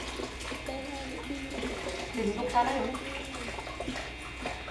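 Water runs and splashes steadily while a cooking pot is washed, a continuous rushing stream with brief clatters, under casual talk in the background.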